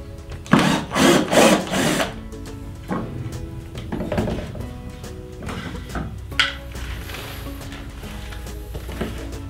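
A Xenon CDID1845 18V cordless drill whirs in several short bursts, loudest at the start, then quieter intermittent runs with mechanical clatter between them.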